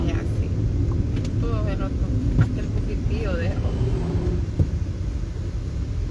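A police patrol car drives along a hot paved road, its steady low engine and tire rumble filling the scene continuously, with people talking over it.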